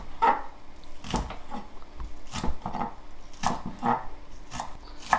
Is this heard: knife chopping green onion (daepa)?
yes